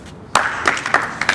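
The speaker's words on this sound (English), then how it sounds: "Let's clap." A small group claps briefly, a few sharp, uneven claps close by that fade quickly.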